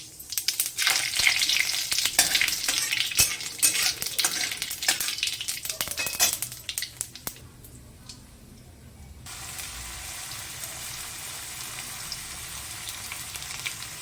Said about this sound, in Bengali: তেলটা আমার গরম হয়ে গেছে আমি একটু জিরে ফোড়ন দেবো এবং তার সাথে একটু তেজপাতা দেবো